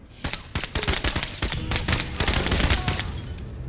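Gunfire in a turn-based tactics video game comes as a quick cluster of sharp, close automatic shots, loud and rapid for about three seconds, with nothing else behind it.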